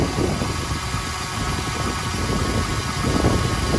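A Chevy 5.3L V8 idling with a newly installed alternator and all pulleys spinning, a steady low engine rumble with a continuous mechanical hum, close and alone.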